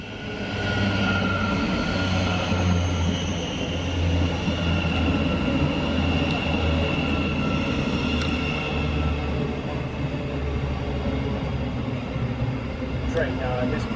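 A train bound for Gatwick Airport sits at a station platform, its steady rail rumble and electric hum running continuously at moderate level, with a voice talking over it.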